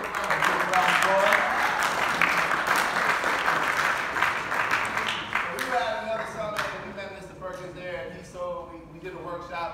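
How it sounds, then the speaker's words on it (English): A live podcast audience at Hofstra University claps steadily, dense and sustained, then thins out toward the end as a voice begins talking over the fading applause. "getting a good round of applause"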